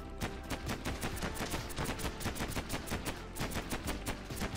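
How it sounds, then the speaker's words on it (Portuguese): Rapid automatic gunfire rattles in the Mini World video game, a dense run of evenly spaced shots that keeps going without a break, loud and up front with no voices over it. "Tô atirando, tô atirando."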